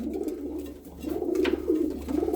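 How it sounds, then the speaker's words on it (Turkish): Ankut pigeons, a breed kept around Antep, coo in a soft, steady series of low rolling calls, close by and continuous over a faint background hum. "Antep taraflarında çok rağbet gören çocuğu olmayanların evlerinde bereket getirsin diye besledikleri ankut güvercinleri."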